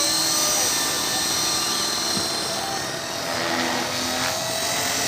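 A small 450-size radio-controlled helicopter's rotor whines and buzzes steadily at close range in flight, a constant high-pitched motor drone with no pauses.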